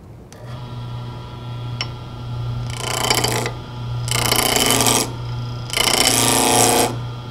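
A wood lathe spins a spindle blank under a roughing gouge taking off the corners, with three loud bursts of rough cutting over a steady motor hum and clicking.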